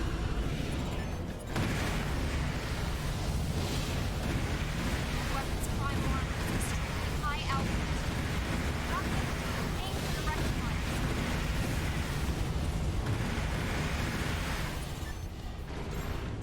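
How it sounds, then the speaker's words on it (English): Missile launches and explosions in the video game Armored Core 4, a dense continuous roar of blasts and rumbling mechanical noise, loud and sustained, with a voice talking over it. "Let's just throw some missiles at it."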